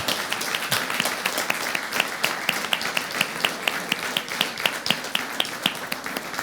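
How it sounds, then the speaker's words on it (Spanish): Audience at a panel opening applauding, with many hands clapping and distinct sharp individual claps standing out in an uneven rhythm, sustained and fairly close. "lo que quiero es justamente un gran aplauso de todos ustedes para este equipo país"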